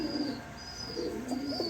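Bombay pigeons cooing close by in a loft, low throaty coos rising and falling in a couple of soft phrases over faint background hiss, no talking.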